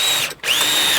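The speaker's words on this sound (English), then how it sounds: "I'm just fixing my middle pieces with a couple of screws" Power drill driving a screw into old reclaimed pallet wood, a close, steady high whine with a brief dip and pause before the motor spins back up.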